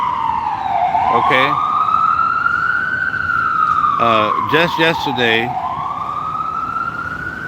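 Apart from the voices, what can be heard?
ambulance siren passing by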